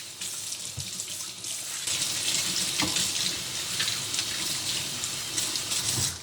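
Leeks are washed under a running kitchen tap, with water streaming steadily into the sink and splashing unevenly as the vegetables are moved through the flow.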